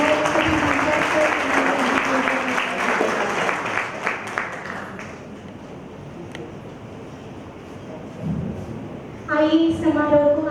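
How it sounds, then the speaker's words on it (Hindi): Loud applause from a university ceremony audience fills the first half and then fades to a faint hum of the room, and a voice starts speaking near the end. "एक बार जोरदार तालियां हमारे सभी सांसद को।"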